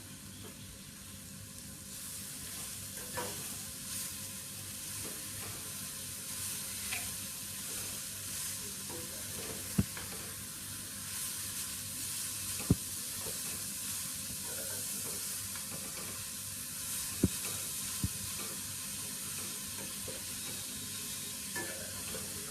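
Grated carrots sautéing in a heavy pan for carrot halwa, giving a soft continuous sizzle with faint occasional clicks of a stirring spoon, steady and low in level throughout.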